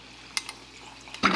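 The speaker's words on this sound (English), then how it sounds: "And then I'm going to add my" Sparkling water from a SodaStream Terra pours into a cup, ending in a fizzy rush of bubbling that follows a couple of light clinks.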